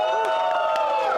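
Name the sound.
crowd cheering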